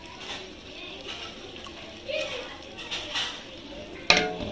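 Tomatoes, coriander and mint sautéing in a pot for a large chicken biryani: soft, steady stirring and scraping with light sizzle, then a sharp metallic clank of a utensil near the end.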